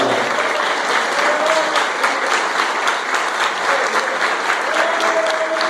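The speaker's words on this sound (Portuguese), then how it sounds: "Quem pode aplaudir Jesus para a vitória?" Congregation applauding during a church service, dense continuous clapping from many hands at close range, holding steady throughout with no speech over it.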